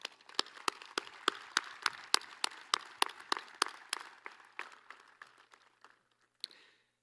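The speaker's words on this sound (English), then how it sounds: "One more round of applause for these students." Applause at a high school graduation ceremony, heard as a run of distinct, evenly spaced claps that are fairly faint and distant, thinning out and stopping with one last late clap.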